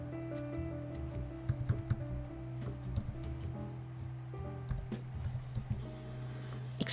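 Steady, uneven tapping on a computer keyboard as drawing commands are entered in AutoCAD, close individual key clicks in quick runs over a low constant electrical hum, no voices.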